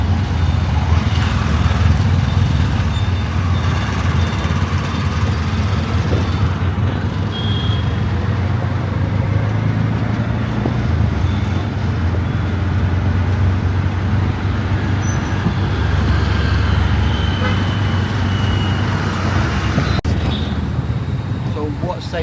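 Continuous road traffic in Bengaluru, India, with a dense wash of engines from cars, buses and motorcycles rumbling and hissing by at steady loudness, close to moderately near, for the whole stretch.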